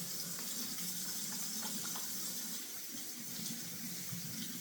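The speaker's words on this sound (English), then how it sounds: "let me rinse off my hands here. Wash with soap and water." Hands being rinsed with soap under a running kitchen sink tap, a steady close hiss of flowing water with faint splashes, continuous and unbroken, with no talking.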